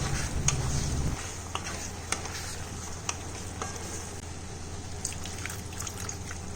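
Water poured into a pan of sweet Banganapalli mango chutney cooking with freshly added spices gives a brief burst of bubbling, then settles into a soft, steady sizzle with faint clicks of stirring.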